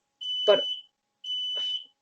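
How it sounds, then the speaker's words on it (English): A household smoke alarm sounds two shrill, piercing electronic beeps separated by a short gap, while a person speaks briefly over the first beep. "if you hear that, that's the smoke alarm in my house going off"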